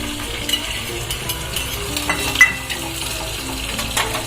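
Steady, close frying sizzle as sugar water is added to a sesame tempering for dhokla, with scattered crackles and a few sharper pops, running continuously with no talking.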